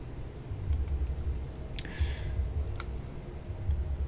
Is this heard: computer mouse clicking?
yes